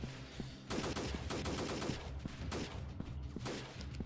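Sustained bursts of video game gunfire from squads shooting during a guerrilla warfare mission against looters, with dense overlapping automatic and single shots that are loud and near, continuing throughout without talk.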